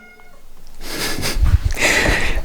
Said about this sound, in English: The cat is not happy about that.